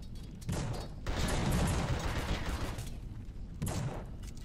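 Gunshots in The Suffering horror action game, heavy blasts with booming tails that swell and fade over several seconds, a louder burst near the middle and another toward the end, with no voices.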